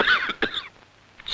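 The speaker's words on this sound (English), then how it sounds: "Coughing spreads them farther." Cartoon sound effect from a 1951 animated short about catching a cold, with two quick harsh coughs close up followed by a brief quiet pause.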